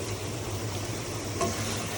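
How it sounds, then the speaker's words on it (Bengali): Pabda fish sauté in hot oil in a pan, giving a steady, close, dense sizzle throughout with a faint stir partway through. "মাছটাকে একটু হালকা একটু কষিয়ে নিব"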